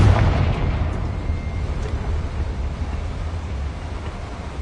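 A Confringo blasting spell bursts in a Harry Potter video game, a loud explosion that fades into a long low rumbling roar with no speech over it.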